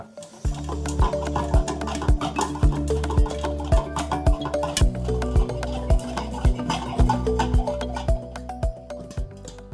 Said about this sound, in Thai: เริ่มเริ่มมีป๊อปมาแล้วนะครับ